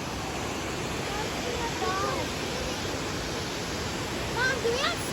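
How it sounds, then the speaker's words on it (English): A rainy-day waterfall at a park overlook roars as a steady, broadband wash of falling water throughout, with people's voices faintly heard over it. "Look at the waterfall."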